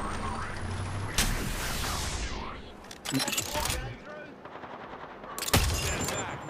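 Bursts of automatic gunfire in a multiplayer shooter game, loud and close with rapid fire over roughly a second, then short volleys and single shots later, with heavy low rumble beneath.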